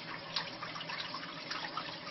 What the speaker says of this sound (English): Do cold water, close up the pores